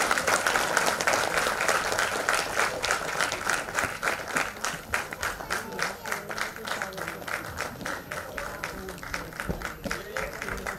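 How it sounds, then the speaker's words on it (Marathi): An audience at a memorial event marking the Veer Savarkar centenary applauds loudly. The clapping gradually settles into a steady, rhythmic unison beat, with voices mixed in. "जरा जोरदार टाळ्या"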